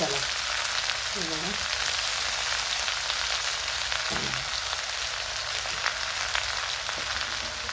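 Spring onion greens fry in a pan with a steady, close hiss and crackle that runs the whole time, joined by a few faint soft knocks partway through.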